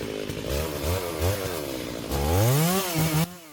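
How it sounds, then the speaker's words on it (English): A chainsaw buzzes up and down as it bites into a hurricane-damaged apple tree, revving to a loud whine near the end before cutting off. "I'm gonna use a chainsaw and see what I can do with this apple tree"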